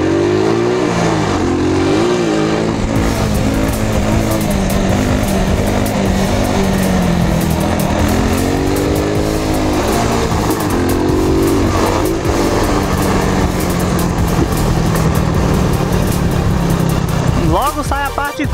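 A motorcycle engine revs repeatedly while the rider attempts a wheelie going downhill, with loud rising and falling pitch sweeps and wind noise over a voice talking close to the microphone.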